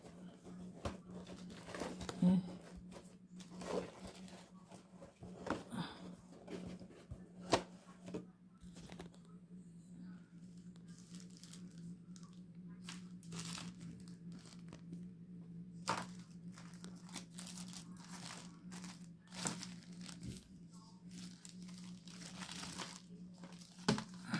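Cellophane wrapper crinkling in bursts while thrift-store jewelry is packed, close and intermittent over a low steady hum, with occasional handling noises.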